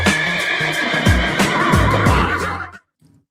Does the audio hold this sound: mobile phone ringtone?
no